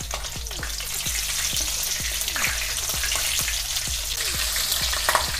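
Cumin seeds, black cardamom and chopped green chilies fry in hot oil, a dense, even crackling sizzle with small pops, close and continuous throughout.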